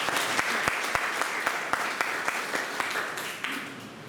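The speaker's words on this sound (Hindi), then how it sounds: "हाथ मिला के ताली बजाओ।" A church congregation claps hands together during a Sunday worship service, a steady run of sharp, evenly spaced claps over a roomy, reverberant background.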